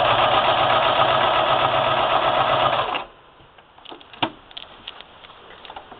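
A sewing machine runs loud and steady for about three seconds, stitching through layers of wool, plastic and muslin for a patchwork placemat, then stops, leaving faint clicks and handling noises.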